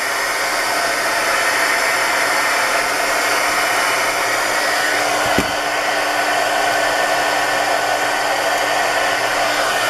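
A hair dryer blows steadily on an alcohol-based colored embellishment, a loud continuous whooshing roar held for about ten seconds with one brief bump midway, no talking.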